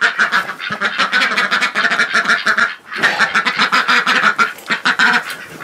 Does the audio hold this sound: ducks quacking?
yes